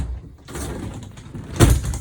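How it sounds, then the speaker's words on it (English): Magnetic shower doors in an Affinity 550 motorhome swing shut, with a soft sliding rustle followed by a single solid close-up thud near the end, and no talking. "and the doors do close"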